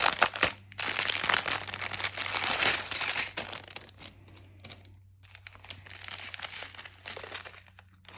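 A crinkly plastic pouch of diamond-painting beads is opened by hand, giving close, loud crackling and rustling in bursts, with short quiet gaps between them.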